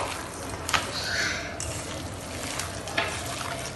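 Both hands mix a chicken spice paste, giving soft wet squelching and smearing close up, steady with a few sharper squishes, and no talk over it.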